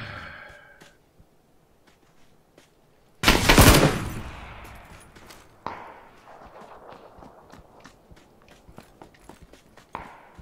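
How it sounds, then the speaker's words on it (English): Video game gunfight with one loud, dense burst of gunshots, followed by scattered quieter shots and clicks amid low background noise. "Where am I even getting shot from?"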